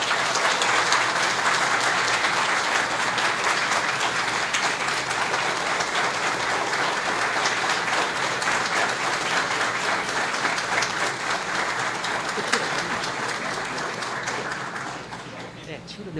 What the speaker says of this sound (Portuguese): Aplaudamos o nosso grande homenageado da noite.